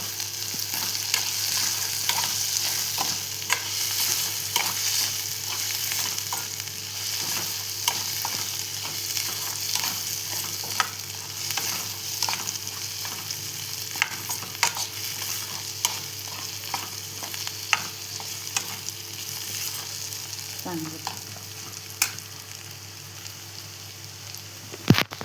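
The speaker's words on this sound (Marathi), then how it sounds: "टोमॅटो पण आता आपण परतवून घेऊया कांद्यासोबत" Chopped tomatoes sautéing with onion in a pan for a wet ambadi sukke recipe, a steady close sizzle and hiss with occasional scraping stirs throughout.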